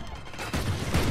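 Gunfire in the video game Valorant, a burst of shots that builds partway through and stays dense and fairly close to the end, with faint talk underneath.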